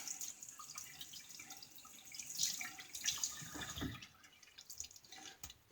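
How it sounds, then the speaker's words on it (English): A tap runs in a bathroom sink while a shaving brush is rinsed, giving a faint, steady splashing trickle with scattered drips and small spatters close by; no talk. "And we'll clean our brush up here."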